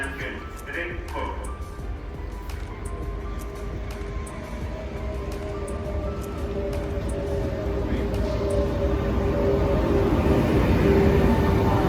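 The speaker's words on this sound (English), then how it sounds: "Oh, the train's coming." A train approaches in Spain, its low rumble growing steadily louder beneath people talking nearby.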